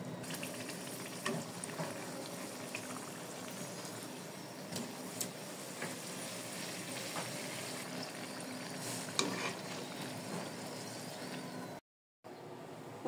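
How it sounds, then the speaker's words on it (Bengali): Aloo puri frying one by one in hot oil, a faint, even bubbling sizzle that carries on steadily with occasional soft stirring sounds and no talking. "এভাবে একে একে করে সব ভেজে নিচ্ছি, তারপরে সব ভাজা হলে দেখাবো আবার।"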